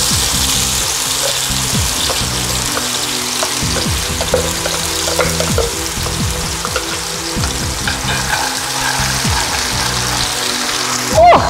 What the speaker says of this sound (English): I'm going to add all the blended ingredient in here